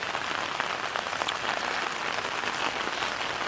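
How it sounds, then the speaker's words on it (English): Heavy rain drums steadily on an outdoor umbrella overhead, a dense, close, continuous patter that holds even through the whole stretch with no talking. "That noise you're hearing is the rain pounding on my umbrella."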